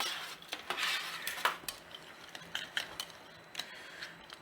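Golden fried potatoes are tossed and stirred in a pan, with metal scrapes and clinks against the pan and a soft background sizzle, close and continuous with no voices.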